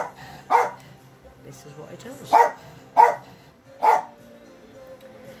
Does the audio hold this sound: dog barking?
yes